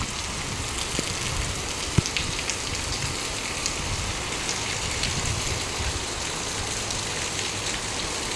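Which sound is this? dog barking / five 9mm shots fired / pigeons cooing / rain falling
rain falling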